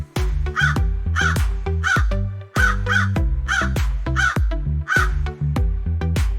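A crow caws loudly and repeatedly, about nine harsh, rasping calls in a fairly steady rhythm, close and clear with nothing else heard.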